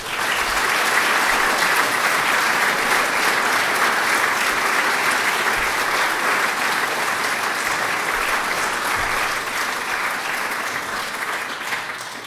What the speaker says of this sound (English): So could I ask you to give them a round of applause, please?